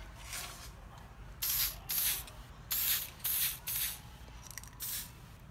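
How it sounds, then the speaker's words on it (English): A spray can hisses in short repeated bursts, about six sharp sprays of roughly half a second each with brief pauses between, close and fairly loud. "now that I have that, I'm just gonna spray it"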